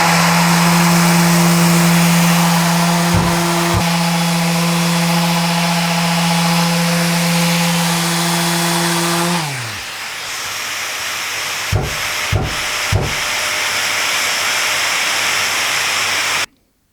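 A power sander works wood for a nightstand, giving a loud, steady whirring drone with a constant hum for about nine seconds. It then winds down and stops, followed by a few sharp knocks in a quieter room.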